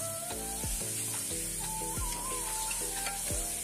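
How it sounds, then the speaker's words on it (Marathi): Chili paste and asafoetida frying in hot oil: a bright, continuous sizzle with crackles, layered with periodic tonal swoops and hums from nearby equipment, close and moderately loud, with no voices. "हिंगाला आणि मिरचीला पूर्ण आपल्याला छान मिक्स करून घ्यायचं आणि तेलात चांगलं तळू द्यायचं।"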